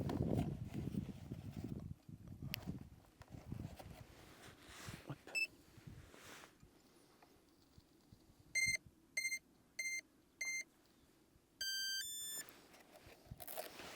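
A Skynetic Havok electric RC racing car on a 4S battery powers on with a series of short, sharp electronic beeps, then a quick rising run of tones, after handling noises at the start.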